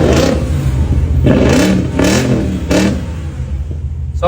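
A loud, noisy car engine close by is blipped three times in quick succession. Each rev swells and falls back to a rough idle, with a faint mechanical clatter between bursts.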